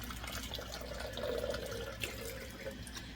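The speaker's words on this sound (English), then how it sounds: "I'm adding my chicken broth." Chicken broth pours into a cooking pot with a faint, steady liquid trickle and splash that swells briefly in the middle and then tapers off, heard at low volume in a home kitchen.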